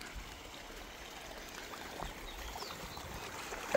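Canal water runs into an onion field for irrigation, a soft, steady trickling and gurgling flow with faint splashes, heard close by and fairly quietly without any talk.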